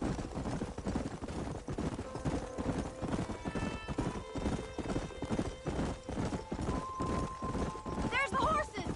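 Horses gallop in Red Dead Redemption, with rapid, steady hoof clip-clops and a whinny near the end, over continuous game sounds and background voices.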